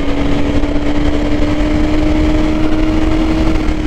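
An orange KTM Duke 250 gen3 motorcycle engine running loud and close, with a steady droning hum held at an even pitch throughout.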